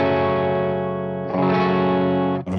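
Electric guitar played through a Victory Sheriff 44 amplifier set for a clean sound, with two sustained, ringing chords in succession, loud and close, with no voices.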